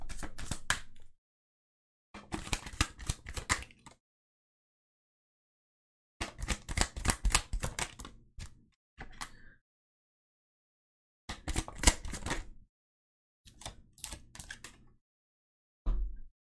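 A deck of tarot cards being shuffled by hand in several separate bursts of quick papery riffling, each lasting a second or two, with short silent pauses between them, close and fairly quiet.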